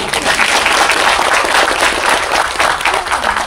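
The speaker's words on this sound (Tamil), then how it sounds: "அவருக்கு ஒரு மிக பெரிய கைத்தட்டல்." An audience at a movie audio launch applauding, a loud, sustained wash of many hands clapping at once with faint crowd noise underneath.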